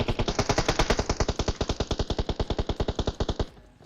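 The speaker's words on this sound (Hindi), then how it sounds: "और इधर गोलियां भी चल रही है" Rapid sustained automatic gunfire in PUBG Mobile, a steady burst of loud sharp shots for over three seconds before it stops abruptly.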